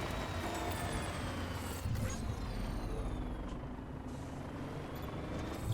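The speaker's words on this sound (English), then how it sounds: "Should I be driving into their territory in a big truck?" A big truck in the video game Death Stranding rumbles along with a steady low engine drone, overlaid by mechanical creaks and a faint high whine, continuous and fairly close throughout.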